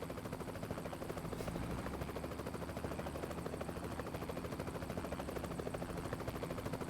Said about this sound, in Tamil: போலீஸ் ஹெலிகாப்டருங்க.